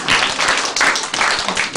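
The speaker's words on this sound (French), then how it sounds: "On applaudit." Audience applause breaks out at a French stage show, a dense burst of hand clapping from a crowd, loud and sustained throughout.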